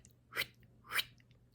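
A voice imitates a rotating lawn sprinkler with two breathy, hissing bursts spaced about half a second apart, close and fairly quiet, with a faint low hum underneath.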